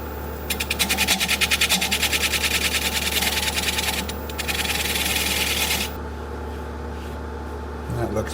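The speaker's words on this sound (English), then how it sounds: "I am going to take this 1/4-inch spindle gouge and just cut a little groove in here" A 1/4-inch spindle gouge cutting a groove into a walnut hollow form spinning on a wood lathe, a close, rapidly pulsing scraping rasp over a steady motor hum that pauses briefly and then stops.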